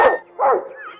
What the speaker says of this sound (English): jumped up and barked at the mischievous creature